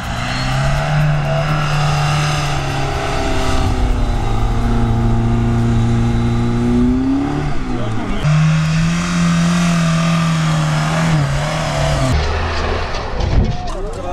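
Stock UAZ off-road vehicles rev and race at a competition in Orsk, with loud, close engine drone shifting pitch as the cars accelerate and change gear for the whole stretch.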